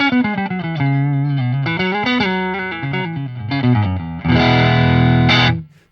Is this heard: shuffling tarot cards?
no